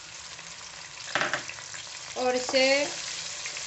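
Onion paste sizzles and fries with gram flour in a hot pan, a steady crackle lifted by brief stirring scrapes, while a voice briefly talks over it.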